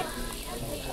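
Red and green peppers sizzling in a hot pan for a chanfaina stew, a steady dense frying hiss throughout, close and even, with no talk over it.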